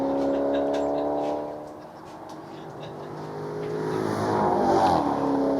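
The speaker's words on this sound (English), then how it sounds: "Nice V8 sound, and over the finishing line." A V8-engined supercar races past at the Goodwood Festival of Speed, its engine droning steadily nearby, dipping briefly, then swelling louder as it revs toward the finish.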